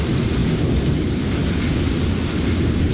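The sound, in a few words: heavy rain in lightning storm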